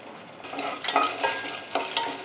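Chana dal frying in hot oil in a pan while being stirred, a steady close sizzle with soft scraping strokes through it.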